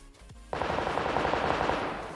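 Sustained rapid automatic gunfire in PUBG Lite, a loud close burst starting abruptly after a short quiet moment and rattling on continuously to the end.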